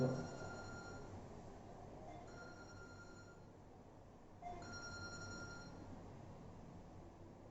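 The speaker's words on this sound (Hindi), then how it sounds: "एक फोन कॉल आ रहा है, देख लो तो।" Phone ringing with an incoming call in a classroom setting, several repeated electronic ring bursts with short pauses between them, faint and somewhat distant over background noise.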